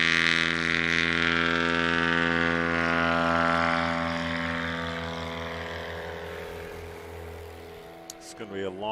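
A STOL propeller airplane takes off during competition practice at Ontario Municipal Airport in Oregon. Its loud propeller drone falls in pitch and fades as it pulls away, with a commentator talking over it.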